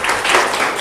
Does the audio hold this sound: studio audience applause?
yes